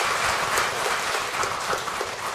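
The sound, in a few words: applause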